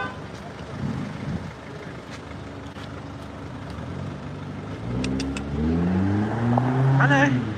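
A loud diesel vehicle engine idles and revs on a residential street under a low-traffic scheme in Wandsworth, its rumble swelling toward the end with voices talking over it.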